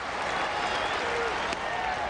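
A big crowd at Shea Stadium during a Cardinals vs Mets baseball game in its final season, with a continuous roar of applause and cheering filling the whole stretch.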